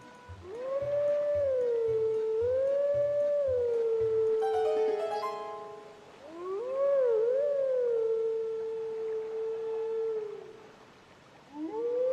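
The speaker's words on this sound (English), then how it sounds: "And to start the game we get a howl for the booty." A wolf howl in The Legend of Zelda: Twilight Princess, long sustained melodic howls rising and falling in several phrases, accompanied early by a low rhythmic pulsing beat.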